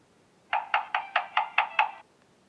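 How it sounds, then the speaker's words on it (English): Seven quick, evenly spaced knocks on a wooden door, sharp and close, followed by silence. "He waited for a while and knocked on the door again."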